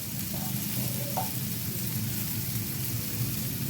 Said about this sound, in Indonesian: Masukkan dalam wajan, digongso bumbunya.